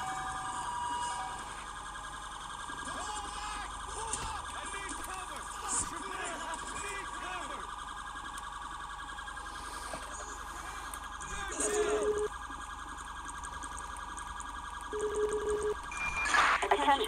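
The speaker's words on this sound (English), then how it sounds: "Siren off." Police car siren in the GTA V LSPDFR game, a steady electronic wail running continuously under occasional game sounds and brief bursts of other noise.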